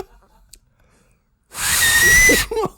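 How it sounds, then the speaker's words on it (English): A person whistles a loud, breathy, sustained note for about a second, close to the microphone, after quiet moments with faint speech; a brief voice follows. "No, I mean your whistle just there."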